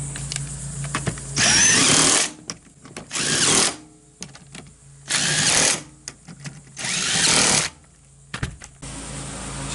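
A power drill drives bolts into a Toyota Sequoia seat, running in four loud, sustained bursts of whirring, separated by short quiet pauses with small clicks and handling noises.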